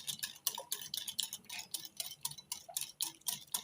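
Spoon stirring yogurt cake batter in a bowl, giving quick, regular scraping clicks and soft taps at close range, rhythmic and fairly quiet, with no one talking.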